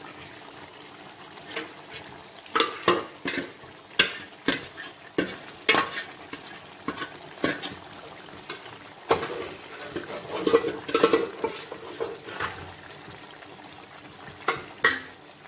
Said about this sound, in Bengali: এবারে আমি এই বাকি এটা দিয়ে দিচ্ছি গ্রেভিটা